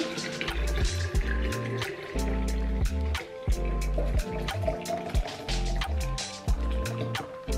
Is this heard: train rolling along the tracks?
no